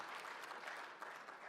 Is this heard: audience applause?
yes